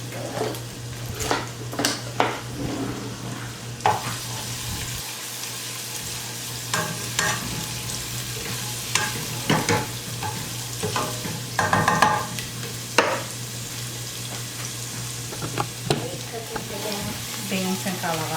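Half a head of garlic sizzles in a pot for a Puerto Rican white bean and pumpkin stew, with repeated spoon scrapes and clinks against the pot, close and steady, and a voice speaks intermittently over it.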